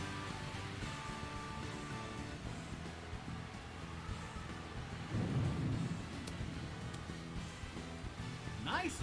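Rain and rumbling thunder from the video game Mario Golf: Super Rush form a steady hiss with low rolling swells, one heavier rumble midway, under intermittent talk.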